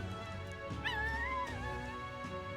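A dog in the video game Metaphor: ReFantazio gives a short whimpering yelp with a rising then falling pitch, over a steady bed of game music.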